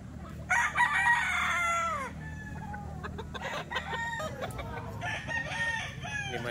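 A nine-month-old white hatch bullstag gamefowl rooster crows loudly and close, with a long strained call followed by further crowing and clucking over a low farmyard rumble.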